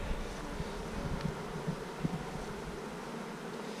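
Honeybees buzzing around a beehive, a soft continuous drone with faint wind, fairly quiet and steady, with no voices.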